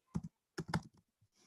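Keys on a computer keyboard are tapped in a few quick close clusters with short pauses between them, crisp and fairly quiet with no talking.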